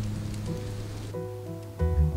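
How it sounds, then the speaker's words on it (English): Pouring rain during a thunderstorm outside a garage, a steady hiss of broadband patter throughout, with a low hum and tonal sounds layered over it partway through. "it's pouring rain. There's thunder, there's lightning."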